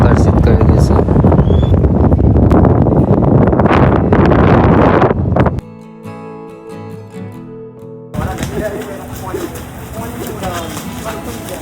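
Wind gusts roar against the microphone at Damodar Kund in Junagadh, loud and steady for about five seconds before giving way to quieter tonal sounds and a softer breezy hiss.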